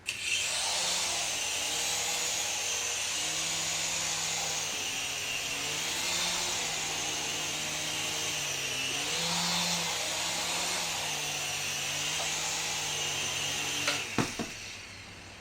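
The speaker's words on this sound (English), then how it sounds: "Now we'll take off and land somewhere else." Small indoor RC helicopter flying around a room and landing on furniture, a steady close whirring rotor and motor drone with shifting pitch, ending in a couple of sharp clicks of a landing.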